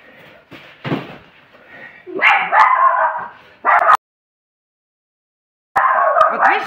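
A boxer dog gives a few close, loud barks and yips in short bursts, split by a sudden gap of silence partway through.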